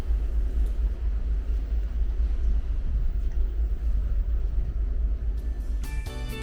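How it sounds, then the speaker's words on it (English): A steady, deep cruise ship engine rumble heard from a cabin drones throughout with a broad hum of noise, constant and unbroken, then a faint tonal sound rises near the end. "the only thing you can hear is the low rumbling of the ship's engine."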